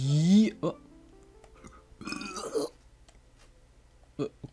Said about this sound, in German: Okay, warum rülpst du jetzt?